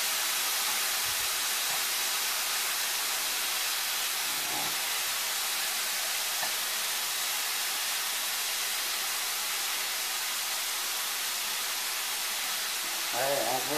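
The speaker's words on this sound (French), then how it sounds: "on fait griller un petit peu, mais ça cuisine" Chicken gizzards sizzling as they grill in a pan, a steady, loud, even hiss that runs on without a break, with a brief voice at the very end.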